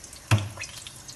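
Water poured from a glass into a pot of tempered cumin rice with salt, a single short splash that settles into a faint trickle, close by and without talk.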